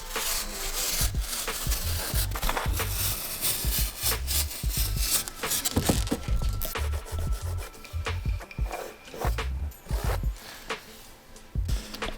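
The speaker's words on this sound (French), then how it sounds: "on vient placer le carton et ajuster au fur et à mesure avec un cutter jusqu'à trouver la forme parfaite" A utility knife trims a cardboard template during a van furniture build. Close, irregular scraping and slicing strokes come in quick bursts with brief pauses between them.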